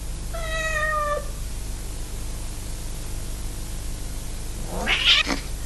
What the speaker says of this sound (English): Puzzles is Alfie's cat.